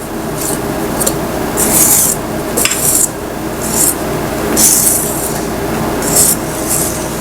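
Whisking strawberry cake batter by hand, the whisk rasping and scraping against the bowl in repeated bursts of strokes with brief pauses between, steady and fairly loud, no voices.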